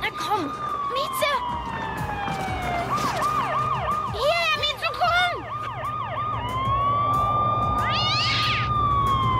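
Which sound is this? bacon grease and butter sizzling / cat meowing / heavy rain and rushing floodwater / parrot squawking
cat meowing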